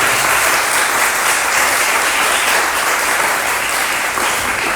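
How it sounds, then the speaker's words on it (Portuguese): A lecture hall audience gives a lecturer a full round of applause, dense and continuous clapping that holds steady throughout without voices. "Uma salva de palmas para a nossa palestrante."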